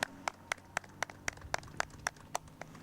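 Sparse, evenly spaced claps from a small audience at a city infrastructure announcement, about a dozen distinct hand claps in a loose rhythm, fairly quiet against a low room hum.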